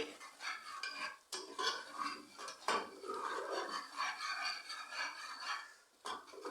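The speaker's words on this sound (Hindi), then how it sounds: "इसको हम 1 से 2 मिनट अच्छी तरह भूनेंगे" Chana masala paste of oil, spices and mashed chickpeas being stirred and fried in a pan in a home kitchen, with steady scraping and rubbing of a utensil against the pan, moderately loud and close, with no talk.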